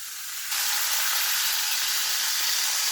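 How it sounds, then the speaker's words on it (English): Garlic and ginger fry in a pan as the base for a gochujang meatball sauce, a steady, bright sizzle that jumps in loudness after the first half second and holds evenly, close and alone with no talk. "we've got our garlic and ginger cooking up a little to get fragrant"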